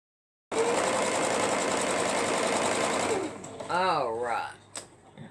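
A sewing machine stitching pieces of fabric together runs in a loud, steady close-up whir, then stops and leaves a brief spoken remark near the end.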